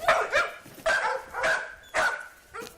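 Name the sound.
drug-sniffing police dog barking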